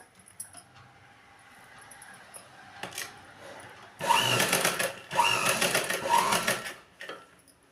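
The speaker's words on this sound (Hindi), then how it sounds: "बस मोती के बगल बगल से इस तरह से यहाँ सिलाई चलाना शुरू करते हैं।" A sewing machine stitches a lining suit close along the edge of a pearl trim, running in two loud bursts of a few seconds each after a quieter stretch of handling.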